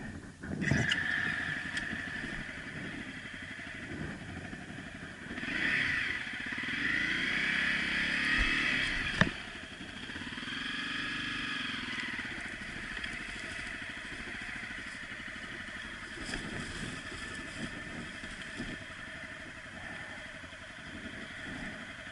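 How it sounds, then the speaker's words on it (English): A Honda CRF 250 dual-sport motorcycle engine drones and revs steadily, with a rising surge of exhaust mid-way and a sharp knock, then a lower rumbling idle. "That's the exhaust."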